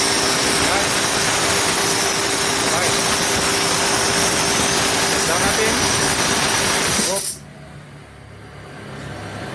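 An air gun compressor's motor runs loud and steady with a harsh, broad roar, then cuts off abruptly near the end, leaving a quieter background.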